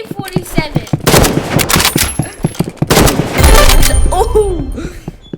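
AK-47 gunfire in the Rivals video game: loud, close bursts of rapid automatic shots in quick clusters, mixed with game effects and a voice speaking in between.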